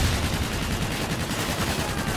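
Sustained rapid aircraft cannon strafing fire in Call of Duty Infinite Warfare, a dense continuous roar of shots throughout with no clear gaps between rounds.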